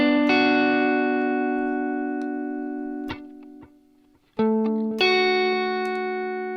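Electric guitar played through a Zoom modulation pedal without reverb, sustained ringing chords that slowly decay, a short muted pause, then fresh strummed chords ringing out loud and alone.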